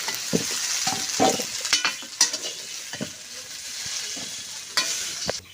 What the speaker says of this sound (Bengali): সজনে ডাঁটাটাও ভেজে নেব